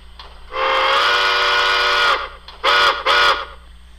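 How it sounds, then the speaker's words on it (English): A Santa Fe six-chime steam locomotive whistle from a model train sound decoder sounds one long blast, then two short toots, loud and clear over a faint electrical hum. "Let's listen to the Santa Fe 6 chime here."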